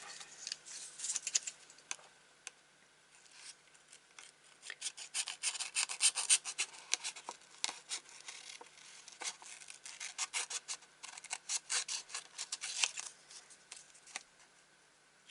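Paper is cut for a handmade craft card, producing close, steady rasping and scratching strokes in quick irregular bursts, with no voices over them.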